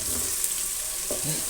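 Ginger garlic paste fries in a pan for chicken karahi, giving a steady, close hiss and crackle with faint stirring, and no talking over it.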